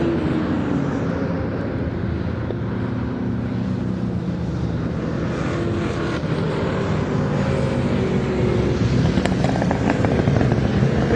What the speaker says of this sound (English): Listen to it crackle as it goes into the chicane.